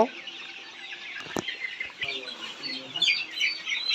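Layer pullets about 52 days old cluck softly in a poultry farm shed, scattered calls with a brief knock in the quiet background.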